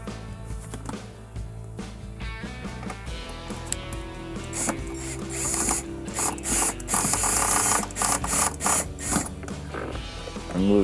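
Driver with a flexible bit backing a screw out of a Samsung dishwasher under repair, a fast, close ratcheting whir that builds to a loud, buzzing rattle with brief stops.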